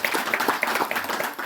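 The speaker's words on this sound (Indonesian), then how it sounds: "Tepuk tangan untuk beliau." An audience breaks into applause, a dense patter of clapping hands at moderate volume that continues steadily throughout, with a few scattered louder claps.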